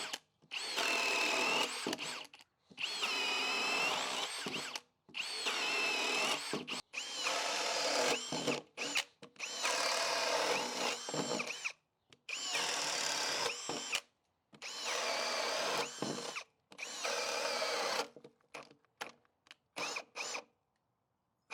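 A Ridgid Octane hammer drill runs in a series of loud, close bursts, each lasting one to two seconds, separated by short silent gaps, with no talking.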